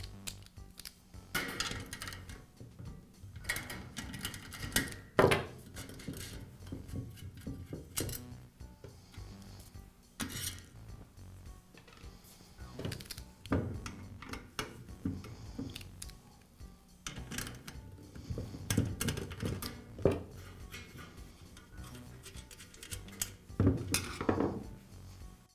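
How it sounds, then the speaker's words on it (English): Small metallic clinks and taps from a screwdriver and nut driver removing the nuts that hold the heater element of a NuTone vent fan heater, scattered irregularly at close range with no talking. "I'll use a screwdriver to secure the screw on one side and a nut driver to remove the nut."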